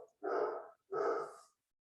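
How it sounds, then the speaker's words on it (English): A dog indoors gives two loud, close barks, each lasting about half a second with a short pause between them, and nothing else is heard. "sorry if you hear my dog barking"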